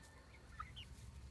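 A couple of faint, short clucks from young hens over a low rumbling background, quiet and somewhat distant.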